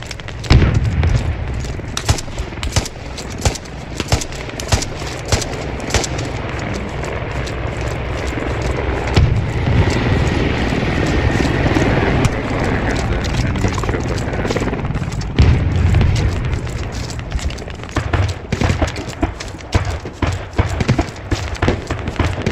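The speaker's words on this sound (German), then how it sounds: "Oh, jetzt kommt die Rakete, hörst du?" Rocket explosions and gunfire from the military shooter game Squad, with a helicopter nearby, make dense, continuous battle noise with repeated sharp cracks and booms over a low rotor rumble.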